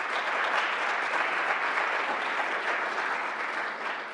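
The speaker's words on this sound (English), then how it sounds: "please give a big round of applause to Rob." Audience applause fills the room after a speaker's introduction at a tech meetup, a dense steady wash of many hands clapping throughout, fading slightly at the end.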